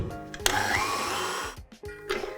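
An electric hand mixer whisks a sour cream cake base, with a steady whirring motor drone that runs continuously and close up before dipping briefly and resuming.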